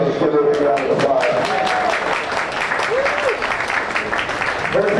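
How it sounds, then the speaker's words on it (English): A crowd applauds at a county fair swine show, dense steady clapping filling the space for several seconds while voices carry over the top. "let's give her a big round of applause."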